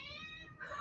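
A house cat meows once, faint and drawn out, a thin tonal cry in a quiet indoor room.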